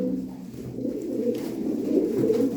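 Grey speckled play pigeons cooing softly, a low murmuring coo repeated close by in a quiet indoor setting.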